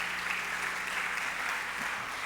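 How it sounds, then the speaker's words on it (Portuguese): A church congregation applauds during a family worship service, a dense, even wash of many hands clapping at moderate distance, sustained without a break through the whole moment and never fading. "Aplauda Jesus por isso."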